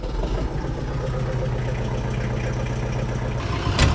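A tractor engine idles steadily on a cold morning of about 32 degrees, warming up, a low continuous rumble with mechanical clatter, close and loud, with a brief sharper clank near the end.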